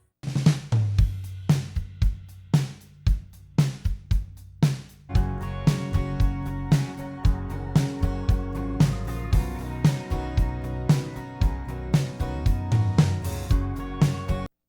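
A full drum kit plays with the rest of the song's raw, unprocessed tracks: sparse hits open the passage, then dense sustained instruments join, driven by a steady punchy beat of kick and snare, loud and close.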